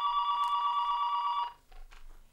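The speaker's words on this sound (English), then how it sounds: "Oh, we got a phone call" A telephone rings with an incoming call on a talk show, a steady electronic trill held for about a second and a half, then a brief pause and a shorter burst of the same tone, fairly clear and without talk.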